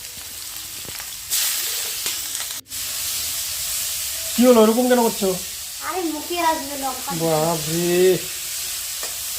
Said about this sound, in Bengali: ডোবা তেলে আর কি ভেজে নিচ্ছি